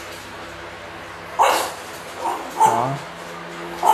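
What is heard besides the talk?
dog barking in a kennel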